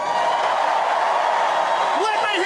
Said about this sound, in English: Let me hear you cheer if you support Israel.